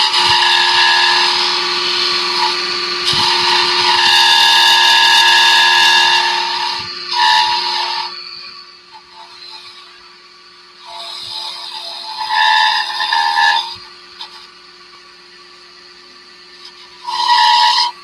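A wood lathe turns a crochet hook, giving a high whine with tool scraping that comes and goes in bursts, stopping and starting between passes.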